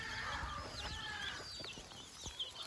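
A mother hen clucks softly among her chicks as they forage in the open, with high chirps scattered over the low clucking and a little rustle of movement.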